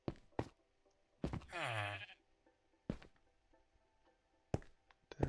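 A sheep in a video game lets out one drawn-out bleat between sharp knocks and thunks of game sounds, with long quiet gaps between them.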